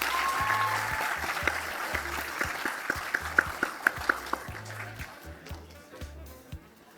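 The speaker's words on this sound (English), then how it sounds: "Perhaps one more round of applause for those students." Graduating students at a Class of 2021 valedictory ceremony draw steady, sustained applause from a crowd throughout, with a few sharper individual claps standing out near the middle and the clapping thinning toward the end.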